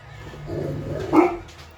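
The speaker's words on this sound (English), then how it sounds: "The cat jumped onto the crate and the dogs got alerted and started to move around." Dogs indoors, alerted when a cat jumps onto a crate, let out a single short muffled bark after a low rumble of movement, all at moderate volume with no talking.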